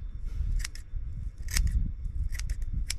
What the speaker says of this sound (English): I always recommend trimming them so they can actually work